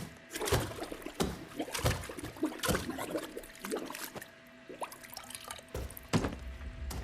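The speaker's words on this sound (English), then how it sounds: "We can then mosey on in and drown him in the toilet for an accident" Water splashing and sloshing in a toilet during a drowning in the video game Hitman 3, with irregular close splashes, drips and gurgles, some louder bursts, all fairly faint.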